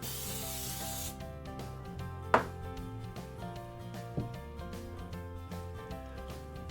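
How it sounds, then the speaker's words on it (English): A brief burst of flour-and-oil baking spray hisses onto a bundt pan at the start, followed by quiet scraping and a sharp clink, with faint music underneath. "we want to spray this just to make sure it doesn't stick"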